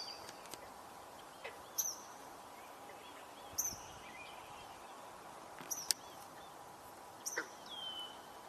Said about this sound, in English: Hearing a swamp sparrow.